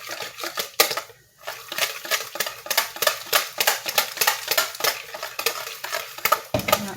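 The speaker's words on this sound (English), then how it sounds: "I'm just mixing up my pumpkin and my eggs" Pumpkin and eggs whisked together in a bowl for pumpkin pie, a quick, steady run of scraping clicks as the utensil knocks the bowl, close and fairly loud with no voice over it.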